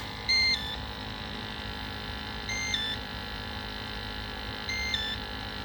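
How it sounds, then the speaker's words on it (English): A boiler alarm gives short electronic beeps about every two to three seconds, three in all, over a steady low mechanical hum from the fired boiler. "excuse the alarm"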